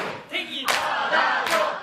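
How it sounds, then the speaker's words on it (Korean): A crowd cheers and roars on a Korean drama set during a staged proposal scene, loud, broad bursts of shouting swelling in two waves. "저 함성 소리"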